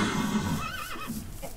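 A horse in Minecraft whinnies once, a rising then wavering neigh, fairly close and moderately loud over faint background game noise.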